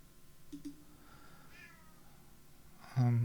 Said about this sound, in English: Ah, you might hear the cat. He's come to complain about something.